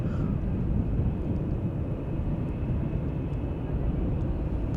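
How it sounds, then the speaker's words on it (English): An Airbus A330 airliner takes off from the center runway at Amsterdam Schiphol Airport, a steady broad jet engine roar heard from a distance with no voices. "A330 with wing fluff taking off from the center runway"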